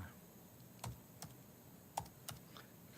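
Typing on a computer keyboard while entering a zip code and website into a help-search page, heard as a few sparse, distinct keystroke clicks against a quiet room hiss.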